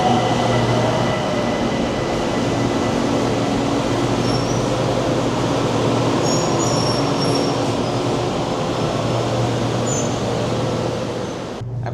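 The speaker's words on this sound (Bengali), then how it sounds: "এখন আমি দাঁড়িয়ে আছি ব্যাংককের স্কাই ট্রেনে" Bangkok BTS Skytrain running, heard from inside a carriage: a loud continuous rumble and rattle of wheels on track with faint high squeals, steady throughout and fading slightly at the end.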